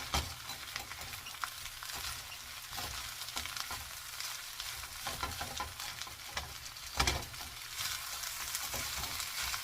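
Pork fried rice heats in a pan with a steady, close sizzle and crackle, occasional stirring scrapes and clicks breaking through the continuous frying hiss, with no voices.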